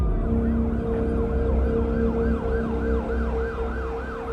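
Police car and ambulance sirens wail together, their rising and falling tones overlapping continuously and loudly over a low rumble of road traffic, with no voices.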